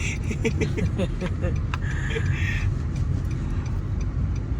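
A car being driven, heard from inside as a steady low road and engine rumble throughout, with people talking over it near the start.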